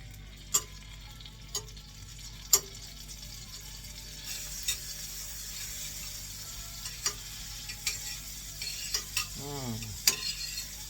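Pancakes frying in butter in a pan, a soft steady sizzle under sharp scattered clicks and scrapes of utensils against the pan, fairly quiet and close.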